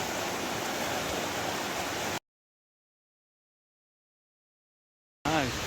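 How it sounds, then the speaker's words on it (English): A river rushes through the 100-Mile Wilderness as a steady broadband wash of flowing water. It plays loud and unbroken, cuts to silence for a few seconds, then returns. "See the river in the back."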